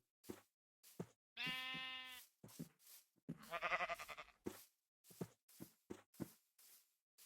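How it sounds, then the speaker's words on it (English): Baby sheep in a video game bleat twice, each a long wavering call, amid scattered soft knocks and footsteps. "Oh, look at the baby sheep."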